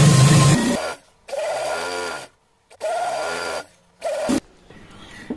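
Sewing machine stitching cord onto a small doll dress for a Laddu Gopal figure, running in three short bursts of a few seconds each, separated by brief pauses, close and fairly loud.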